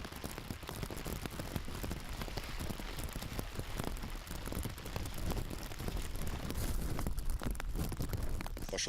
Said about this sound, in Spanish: Ha empezado a llover